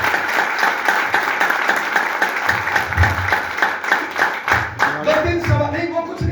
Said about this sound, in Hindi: एक बार ताली बजाओ बातचीत से।